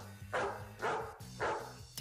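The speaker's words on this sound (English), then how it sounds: "Did you hear a barking noise?" A dog barks three times in evenly spaced bursts, loud and close, over a steady background music bed with no talking.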